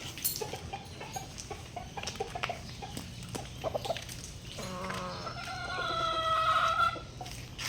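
A young rooster, a stag, crows outdoors on a backyard poultry setup, with clucking and other fowl sounds around it; a long drawn-out crow rises clearly in the second half over a busy farmyard background.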